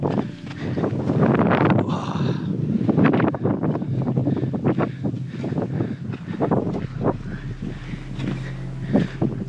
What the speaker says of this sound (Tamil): நல்லா காற்றடிக்குது